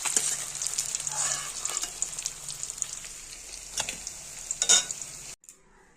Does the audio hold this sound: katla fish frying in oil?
yes